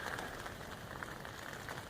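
Rain patters steadily on a used camping tent in the woods, a soft, continuous hiss of drops striking the fabric close by, faint and unbroken with no voices.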